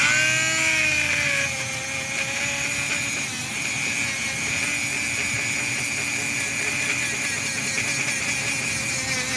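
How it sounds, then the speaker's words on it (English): A Dremel rotary tool grinds deep curb-rash scratches on a 2023 Dodge Durango wheel. It makes a steady high-pitched whine with a constant grinding buzz that dips slightly after the first couple of seconds. "You can see I use my Dremel to knock down those real deep scratches"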